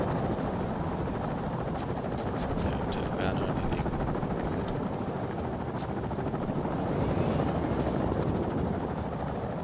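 Chinook helicopter in the game Afghanistan '11, constant loud rotor thrum and engine roar with wind noise, under talk.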